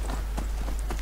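Hooves of a horse clip-clopping as it is ridden in the video game Skyrim, a quick run of muffled footfalls over a steady low hum, with no talk.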